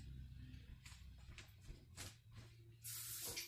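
Tap water runs and splashes over a couple of leek leaves being rinsed in a kitchen, a soft hissing flow with brief bursts, near but quiet, finishing in a louder gush.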